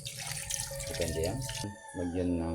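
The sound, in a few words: glass of water poured into adobo pot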